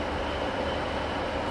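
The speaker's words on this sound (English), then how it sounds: "Train." A train rumbles steadily through Dumfries train station with broadband rolling noise, sustained and fairly close, with no voices.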